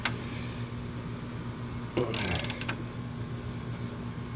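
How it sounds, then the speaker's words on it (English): A big extended-handle ratchet snugs down bolts on the upper torsion mount of a 2001–2010 PT Cruiser, giving a quick burst of metallic clicking midway over a steady background hum. "I've got my big extended handle ratchet, and we're just gonna go ahead and snug these down really good"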